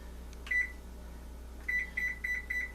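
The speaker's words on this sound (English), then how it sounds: "I'm gonna set the timer for" A kitchen timer being set beeps: one short electronic beep, a pause, then a run of about six evenly spaced, clear beeps close by, with no talk over them.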